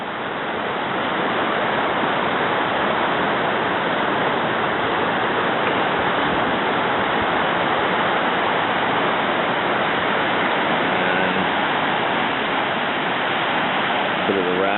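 A river near the California–Nevada border rushes in a loud, continuous broadband roar that stays steady and close throughout, with no other sounds standing out.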